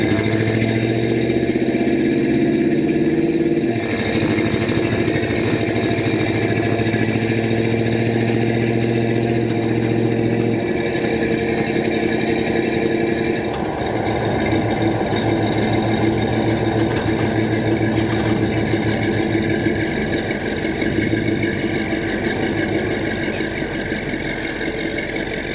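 The engine of a 1971 GMC Sierra Grande 4x4 short-wheelbase pickup runs steadily with a low rumble and a few shifts in pitch, heard close and continuously throughout.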